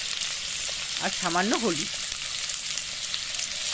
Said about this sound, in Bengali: এবার ওই তেলেতেই দিয়ে দেব ডুমো ডুমো করে কাটা আলু